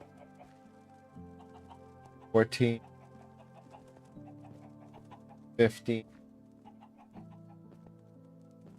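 Chickens clucking in Minecraft, two short bursts of game clucks standing out clearly over quiet background music, with a man counting aloud between them.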